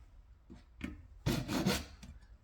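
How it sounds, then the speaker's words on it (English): A hand saw files back and forth to widen the slot of a bolt clamped in a vise, for setting tappets on an IMZ Ural 650 M67 motorcycle: a few short metallic rasping strokes, close, then one longer scraping burst. "Actually, you'll use the saw like a file,"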